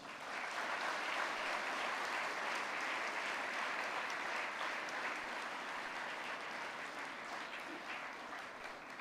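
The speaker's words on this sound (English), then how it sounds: "can we put together one big round of applause?" A school graduation audience gives a big round of applause during a valedictory speech, a dense, even roar of clapping from a large crowd, heard at a distance and sustained throughout.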